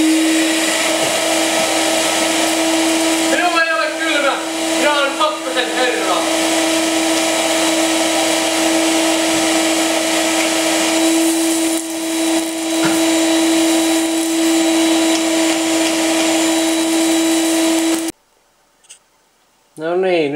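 A household vacuum cleaner runs steadily for about eighteen seconds while a house is vacuumed, a loud continuous motor hum with shifting suction tones, then it cuts off abruptly into near silence with a brief noise afterward.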